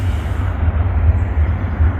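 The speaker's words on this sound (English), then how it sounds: "Those gate runners for that really short train" A really short train passes a railroad crossing, heard as a steady, continuous low rumble throughout, with no talking.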